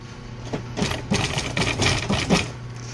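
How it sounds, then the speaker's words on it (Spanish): A sewing machine stitches piping onto car seat upholstery in a steady run of rapid mechanical stitching bursts, close and fairly loud, with no voices. "Y yo empiezo a coserle lo que es el vivo."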